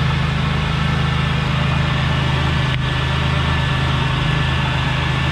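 A 1998 Buick Riviera's supercharged 3.8L 3800 V6 idles smoothly outdoors, a steady low hum with a constant even drone and no rattles or surges, recorded close by for about five seconds.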